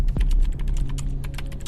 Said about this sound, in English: just address your keyboard and take notes while I talk to ARIS